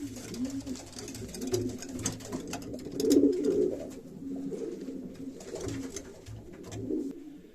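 Breeding racing pigeons coo softly nearby, low throaty burbling calls repeating in a loose rhythm, with faint rustling and clicks in between.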